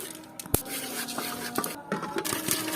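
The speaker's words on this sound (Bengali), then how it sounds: "এখন গরম বালির মধ্যে খইয়া দানগুলারে দিমু।" Rice grains stirred through hot sand in a pot over a village fire to make puffed rice give a continuous close gritty scraping and hiss, with a sharp clatter near the start and soft rustling throughout, no talking.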